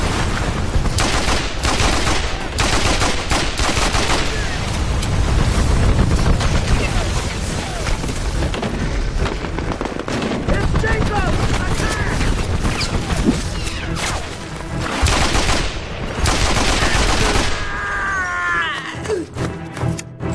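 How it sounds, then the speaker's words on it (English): AK-47 gunfire in the video game Mercenaries 2 comes as loud, dense bursts of rapid shots and booms that go on almost without a break, with game voices mixed in. "AK-47, fine gun."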